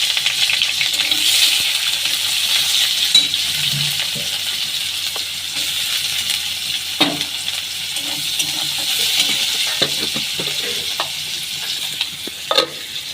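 Chopped onions fry in a hot pan with bay leaf and two dried red chillies, giving a steady loud sizzle with occasional stirring clinks and scrapes throughout.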